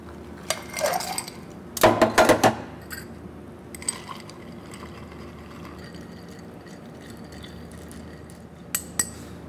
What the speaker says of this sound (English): Simply add ice and stir.